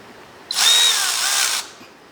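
A power tool runs in one short, high whirring burst of about a second, close and loud, as it tightens a TDC sensor on a Honda Civic, then cuts off.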